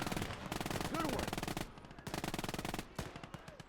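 An MG42 machine gun fires in the WW2 strategy game Gates of Hell, loud rapid continuous bursts with a short pause, then more sustained automatic fire.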